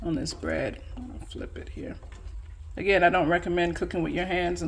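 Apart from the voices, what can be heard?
No everyday noises stand out.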